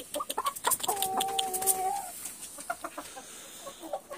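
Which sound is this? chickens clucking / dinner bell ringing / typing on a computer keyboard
chickens clucking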